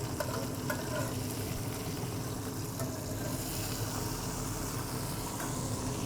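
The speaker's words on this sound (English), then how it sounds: "Nice sear. Time for a flip." Smash burger patties sizzle on a flat-top griddle just after flipping, a dense steady crackle and hiss filling the space, close and even, with no voices.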